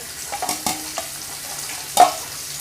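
Flour-coated fish frying in oil, a soft steady sizzle up close broken by several sharp scrapes and taps of a spatula, the loudest near the end, with no talk.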